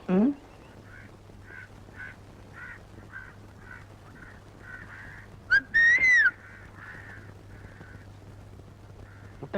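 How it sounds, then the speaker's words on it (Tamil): A person whistles in a Tamil comedy scene, a couple of rising and falling whistled tones, the clearest a loud upward-swooping whistle late on, alongside a soft repeating tonal pattern and a low steady hum. "என்ன பார்த்தா விசில் அடிக்குது"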